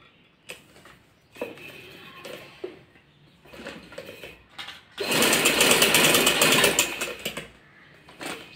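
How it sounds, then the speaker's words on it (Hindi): A sewing machine stitches the hem of a child's patiala shalwar. Scattered handling clicks lead into a loud, close, rapid whirring run of about two and a half seconds. "तो अब हम अपने पांचे की सिलाई लगा लेंगे।"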